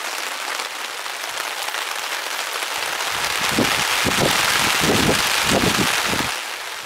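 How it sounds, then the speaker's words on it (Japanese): Strong wind and rain beat against a lakeside campsite at Shidaka Lake, a loud continuous rushing hiss with gusty low thumps of rain striking a tent or tarp. "結構風が強くてですね、これ正面からバンバン雨が入ってくるんですよ"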